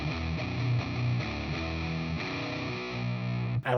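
Electric guitar played through a JPTR FX Katastrophe pedal with distortion, sustained chords and notes with a thick saturated, effected tone, ringing steadily before cutting off abruptly near the end.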